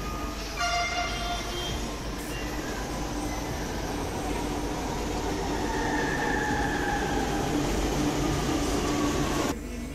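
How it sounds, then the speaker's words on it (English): A train pulls into a station with a loud, continuous rumble of rolling wheels and faint squeals and tones, filling the whole stretch before cutting off abruptly near the end. "There it is, the train is coming."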